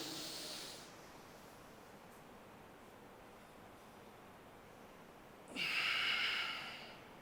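Breathing during yoga practice, a short airy breath at the start, a long quiet hold, then a strong hissing breath near the end, close and alone with no talking.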